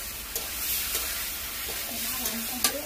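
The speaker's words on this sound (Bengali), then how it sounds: "এবার ভাজা বেগুনগুলো দিয়ে দিচ্ছি।" Fried brinjal pieces going into a hot pan with boiled potatoes, giving a steady sizzle broken by a few sharp spatula knocks and scrapes close by, with no voices.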